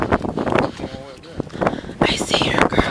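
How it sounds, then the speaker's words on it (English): Strong wind during Tropical Storm Earl at Jones Beach buffets the microphone in rough, uneven gusts, heavy rumbling bursts mixed with voices talking nearby. "It's so windy right now."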